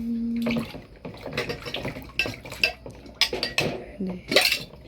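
Cups and dishes being washed clatter and clink against one another in bursts close by, with splashing water running under the irregular knocks and a voice talking now and then.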